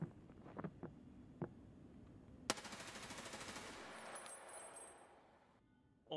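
Gunfire in Escape From Tarkov: a few scattered single shots, then a loud crack that opens into a sustained, rapid burst of automatic fire lasting a couple of seconds before dying away.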